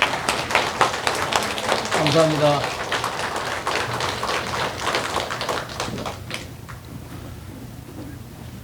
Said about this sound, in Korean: 목사님께는 기쁨이 되시게 박수로 내려가실 때 박수로 한번 드리겠습니다